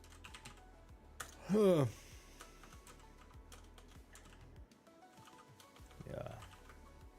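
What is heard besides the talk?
typing on a computer keyboard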